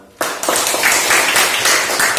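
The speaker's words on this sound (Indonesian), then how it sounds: "Beri tepuk tangan untuk semua." Students in a mathematics classroom break into loud, close clapping that starts abruptly and continues as a busy, steady patter.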